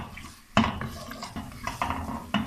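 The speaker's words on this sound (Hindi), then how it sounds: "अब हम इसमें डाल देंगे गाजर। और इसको भी थोड़ा सा फ्राई कर लेंगे" Carrots stirred and fried in a pan, a metal spoon scraping and clinking against the pan in irregular strokes, with faint sizzling beneath, close and moderately loud.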